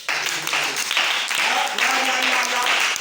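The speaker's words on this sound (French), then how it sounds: "On acclame le Seigneur." A church congregation claps and cheers in worship, a dense burst of applause swelling in waves over a few seconds, with voices mixed in among the clapping.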